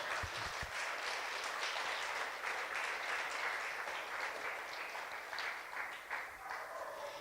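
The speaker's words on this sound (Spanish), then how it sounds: "Le damos un aplauso a Dios" Steady applause from a church congregation praising God, a dense continuous patter of clapping held at an even level throughout, moderately distant and without voices over it.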